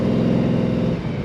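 A 1955 Chevrolet Bel Air Nomad two-door wagon with a glass pack exhaust, its engine revving in a steady, loud low rumble held close for over a second, with no talk over it.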